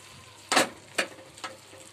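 Drumstick leaves stirred and sautéed in a pan: three distinct spoon scrapes against the pan, strongest first and fading, over a soft background hiss.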